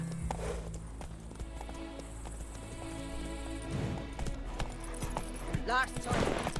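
Roach the horse in The Witcher 3 runs with quick, steady hoofbeats under a busy game soundscape of music and effects, with a voice briefly heard near the end.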